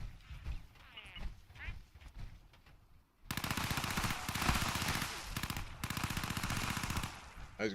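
Rapid automatic gunfire from a weapon in the video game Fallout bursts in loud and sustained after a quieter opening with faint voice-like sounds.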